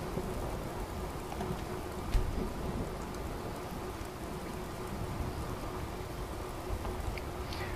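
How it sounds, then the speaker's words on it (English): Steady rain falls in the open world of Skyrim, a constant dense patter with a low rumble beneath, no talking. "Ah, it's raining!"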